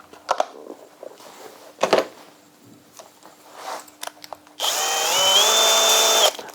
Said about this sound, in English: So I'm going to make 4 little drill holes.